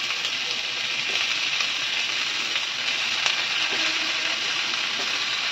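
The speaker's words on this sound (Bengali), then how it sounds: "এই দুটো দিয়ে এখন আপাতত ভাজবো" Chicken pieces fry in a pan with salt, giving a steady, close sizzling hiss that carries on evenly with no talking.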